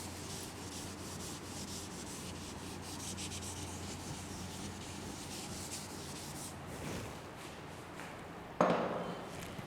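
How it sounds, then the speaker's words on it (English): A classroom board being rubbed clean during a science lesson, a soft, steady scrubbing hiss lasting several seconds, fairly faint, ending with a sharper knock. "shall I rub the board?"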